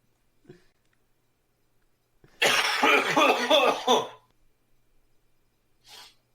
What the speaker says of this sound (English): I was trying to make a noise, but I wanted to cough too